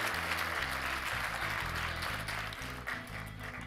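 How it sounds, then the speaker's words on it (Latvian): An audience applauds after a poem recitation, dense steady clapping filling the room at fairly close range, with a low musical drone running underneath. "Aplausi"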